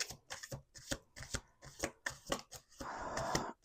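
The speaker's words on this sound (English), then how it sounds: "We're going to do 2 more shuffles." Tarot cards being shuffled by hand at close range, a quick series of crisp riffling bursts followed by a longer, denser riffle at the end.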